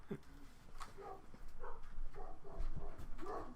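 Several dogs bark at a distance, angry irregular woofs and yelps that come and go over a low background rumble, with no clear speech.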